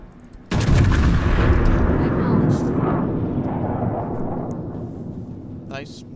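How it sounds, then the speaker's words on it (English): Naval artillery bombardment in World of Warships, a sudden heavy cannon blast rolling into a long fading rumble, loud and close, with a player's voice over it. "Commence bombardment of the hostile target."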